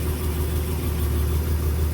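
A Ford car engine idles steadily while warming up, a loud, even low rumble close by with no change in pace and no talking over it.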